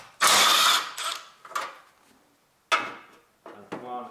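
A ratchet works on the 10mm bolts of a Honda Civic's windshield wiper motor console, giving several short, sharp bursts of clicking and scraping separated by brief pauses.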